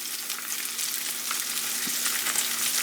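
Zucchini flowers fry in a pan with a steady, dense sizzle that holds evenly from start to finish, close and fairly loud, with no voices.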